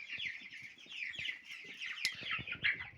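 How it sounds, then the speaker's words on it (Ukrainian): A flock of Cobb 500 broiler chickens clucks and peeps continuously at close range, overlapping chatter with a few sharper squawks, no talking. "Отакі от наші курчатка були маленькі, стали вони вже далеко не маленькі."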